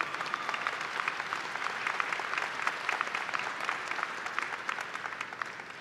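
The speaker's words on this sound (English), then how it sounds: "that is worthy of a round of applause" At a University of the District of Columbia commencement, the audience breaks into a long, even round of applause, many hands clapping together at a moderate distance, uninterrupted by speech.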